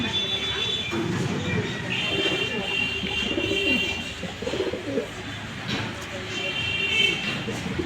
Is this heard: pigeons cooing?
yes